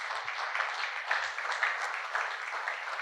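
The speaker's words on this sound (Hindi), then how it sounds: "क्यों जोरदार एक तालियां प्रभु के यीशु मसीह के लिए बजाए।" Congregation clapping at a Hindi-language Christian church service, a steady crowd of hands sustained for about three seconds, moderately loud and fairly uniform without talk over it.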